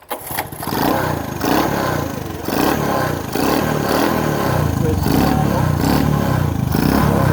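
Honda ATC three-wheeler trike engine fires up after a brief starting sputter and settles into a steady, loud, close idle with a rattly mechanical edge that runs unbroken to the end.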